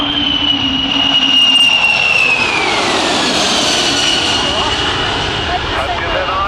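A Boeing 747-400 jet airliner zooms into a climb after a low-level high-speed pass at an air show, its engines roaring loudly and steadily with a falling whine as it pulls away, while a voice speaks over it.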